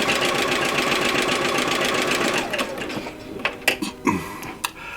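Sewing machine chain stitching quilt strips, a fast steady mechanical whir for a few seconds that then slows and stops, followed by scattered light clicks and handling noises up close.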